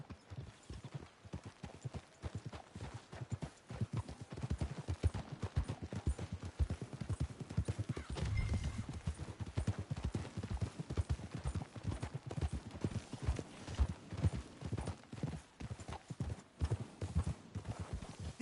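Hooves of horses clip-clop steadily in Red Dead Redemption 2, a dense, continuous rhythm of several animals moving along together, close and fairly quiet, with no talking.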